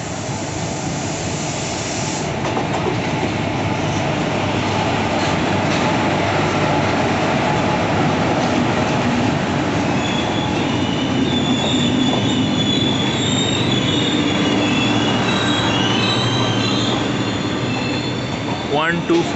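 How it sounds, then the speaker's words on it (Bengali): The Trivandrum–Silchar Express rolls up to a crowded platform at Rampurhat Junction, loud and close, with a continuous heavy rumble, clattering wheels and high squealing of wheels on rails, plus faint crowd voices behind. "এই যে ট্রেনটা আসছে এটা হচ্ছে ত্রিভান্দাম শিলচর এক্সপ্রেস"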